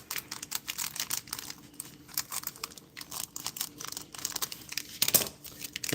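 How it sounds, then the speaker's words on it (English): Plastic packaging of sliced cheddar cheese crinkles and tears as it is cut open, a close, busy run of crisp rustling and snipping bursts with a sharper rip near the end, no voices. "Let me cut my package of cheese open because this is the new package I bought yesterday."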